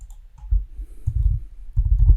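Typing on a computer keyboard: a few soft, close key presses in short clusters, with no talk.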